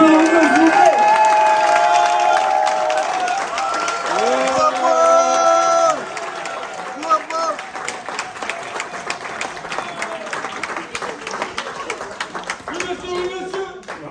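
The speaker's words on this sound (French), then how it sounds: "On applaudit Carlos Martins." At a political gathering, a crowd applauds and cheers for Carlos Martens Bilongo, the outgoing député. Loud, close clapping and cheers mix with music and voices, then thin out into scattered claps under ongoing sound.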